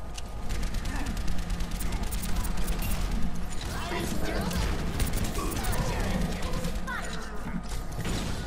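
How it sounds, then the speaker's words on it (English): Dense, continuous volley of gunfire and ability blasts from an ultimate unleashed in an Overwatch match, loud and close with rapid overlapping bursts and crashes over the full length, with voices blended into the chaotic mix. "I'm firing my ult at them."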